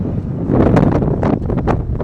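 Cold wind gusts at the Saputara ghat viewpoint, buffeting the microphone with loud, continuous roaring bursts that rise and fall, heard close with no talking.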